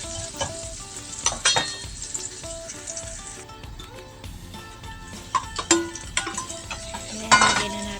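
Garlic sautés in a frying pan while tofu is being prepared, giving a steady close sizzle with stirring scrapes and a few utensil clinks against the pan, no voices.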